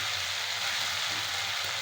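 Soft, steady sizzle of potatoes frying in tomato masala in a pan, quiet and continuous with no talk.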